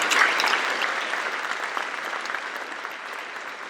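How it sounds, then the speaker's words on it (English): Steady audience applause at a school world-language awards ceremony, an even wash of many hands clapping that starts strong and tapers gently over a few seconds, with no voices over it. "Round of applause for our French recipient and for Madame Banks."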